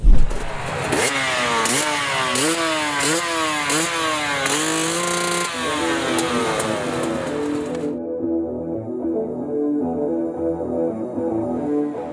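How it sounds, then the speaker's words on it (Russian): Light sport motorcycles race in a winter cross-country event, their engines revving hard in rising and falling whines before settling into a lower, steadier drone, loud and close with no talk. "Гонки на легких спортивных мотоциклах в совершенно неподходящих для этого условиях – это и есть кросс-кантри"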